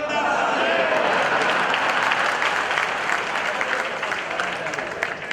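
A crowd applauding steadily, a dense continuous wash of clapping that fades slightly toward the end.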